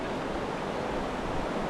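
River rushing at the mouth of the canyon in Zion National Park, a steady broad roar of flowing water, close and continuous with no voices.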